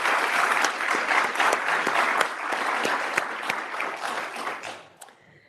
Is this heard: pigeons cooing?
no